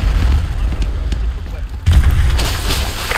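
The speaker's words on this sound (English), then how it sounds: "Those explosions are going to attract a lot of attention." Explosions in Call of Duty: Modern Warfare 2 Remastered boom loudly, with a heavy low blast at the start, a second big burst about two seconds in, and rumbling battle noise in between.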